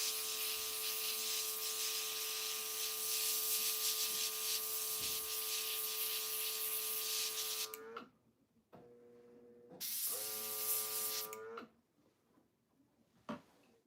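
An airbrush spraying paint onto a taxidermy doe hisses loudly with a steady tonal whine from the compressor, then cuts off and restarts in short bursts before falling quiet.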